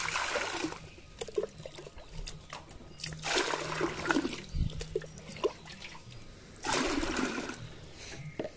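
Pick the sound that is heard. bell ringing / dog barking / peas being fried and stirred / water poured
water poured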